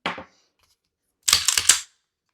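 Trigger pulls on a brand-new Staccato C2 pistol with a roughly 4.7 lb pull, heard as a short sharp click followed after a pause by a brief burst of close, crisp mechanical clicks and snaps.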